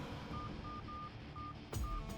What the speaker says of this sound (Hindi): विजय को फोन लगा।